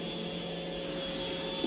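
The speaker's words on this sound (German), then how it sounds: "Das ist nur unser Staubsauger." A household vacuum cleaner runs indoors with a steady, close, droning hum and a faint whine, unbroken for under two seconds with no talk.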